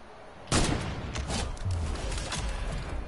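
A loud gunshot from a sniper rifle in a video game cracks out sharply, followed by a dense rumbling volley of continued gunfire and explosive booms, with no talk.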